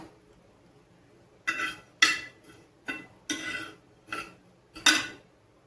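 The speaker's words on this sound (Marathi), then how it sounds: "थोडेसे तीळ पण भाजून घ्यायचे." Sesame seeds dry-roasting in a pan, heard as a series of sharp scraping, rattling strokes of a spoon against the metal, about seven bursts separated by quiet gaps, close by.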